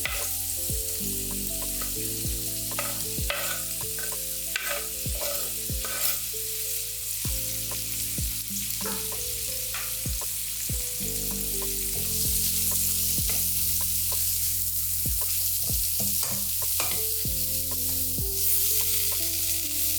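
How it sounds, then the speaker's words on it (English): Mushrooms sizzle steadily in a hot pot, a continuous crackling fry broken by occasional clinks and scrapes of stirring. "So I'm putting the mushroom inside the pot so that it can fry."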